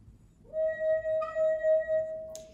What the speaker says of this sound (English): draw your finger around the rim of the glass until you hear a ringing sound